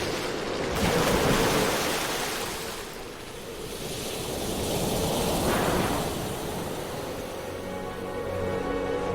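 Loud, roaring Southern Ocean waves surge and recede in long swells during a storm, with heavy wind rushing over the water and no voices.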